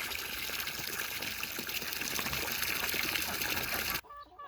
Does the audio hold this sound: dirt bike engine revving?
no